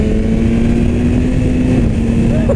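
A 2016 BMW S1000R motorcycle engine drones steadily while being ridden, a loud, continuous hum mixed with rushing wind noise.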